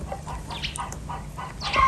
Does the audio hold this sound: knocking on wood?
no